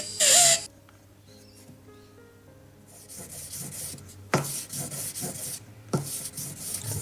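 Close, small-scale rasping and filing on a platinum and gold diamond ring as its outside is trimmed and shaped, with short scraping strokes that come in a brief sharp burst and then in repeated bouts over a low background hum.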